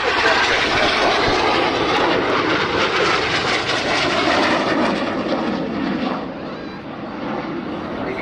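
RAF jet aircraft at full power during an opposition pass at the 2016 Cosford airshow: a loud, broad, rushing jet roar that fills the clip and then eases slightly as the planes turn away.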